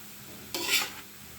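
Ash gourd fry is stirred in a pan with a spatula, one short scraping sweep over a quiet sizzle, close and brief.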